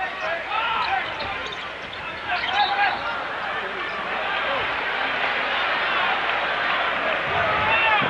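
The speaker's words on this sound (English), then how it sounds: "Very quiet crowd." Crowd murmur in a basketball arena during a North Carolina versus Kentucky college game, a steady low hubbub with basketball bounces and sneaker squeaks under continuous talk.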